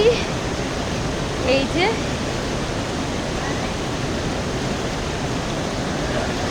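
Kempty Falls in Mussoorie, a steady, broad roar of falling water that fills the whole clip, with a brief voice near the start.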